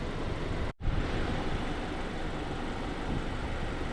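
A metallic gray Honda Accord with a swapped front bumper starts up: a brief crank gap, then a steady, close engine idle with broadband noise that runs on alone.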